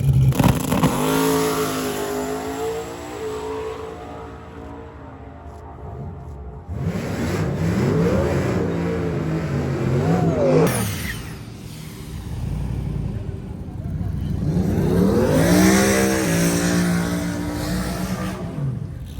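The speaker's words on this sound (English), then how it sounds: "We have the 10 Soldiers race car, low dollar motorsport, G-body out here, dude. This thing is quick." G-body drag race car launching down a drag strip at a racing event, loud engine roars rising in pitch as it accelerates away, with a second pass of revving audible later, outdoors and fairly close.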